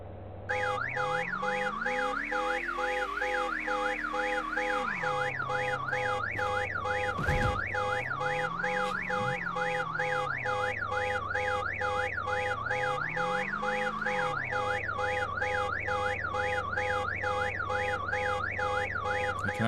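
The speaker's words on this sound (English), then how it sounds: "I can actually not turn off the alarm for some time." A car alarm blares in the survival video game VEIN, a loud warbling electronic siren cycling through rising and falling patterns continuously for about twenty seconds, with no talking.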